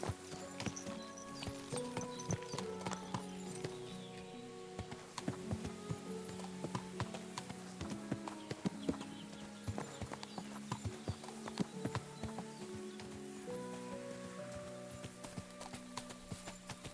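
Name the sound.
horse-drawn carriages clip-clopping in the video game Kingdom Come: Deliverance 2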